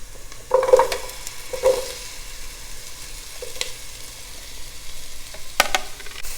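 Carrot and onion sautéing in a pan for sambar, a quiet bed of frying with several louder scrapes and clanks as a spoon stirs the vegetables, scattered unevenly through the stretch.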